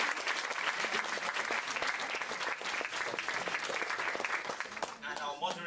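An audience at a university debate and panel discussion claps steadily in a dense, sustained round of applause that fills the room, with a voice briefly speaking as it tapers off at the end.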